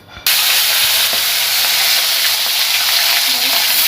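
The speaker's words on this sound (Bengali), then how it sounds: "মাছের মুড়োগুলো ভেজে নেবো" Fish heads drop into hot oil and a loud, close sizzle bursts on suddenly after a moment of near quiet, then holds as a steady, crackling hiss.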